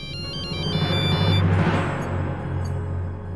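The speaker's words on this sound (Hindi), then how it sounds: "ये आस्था भाभी हमें फोन क्यों कर रही?" A phone ringtone plays as a repeated melodic tone pattern over a steady low musical drone, loud and continuous with no talking over it.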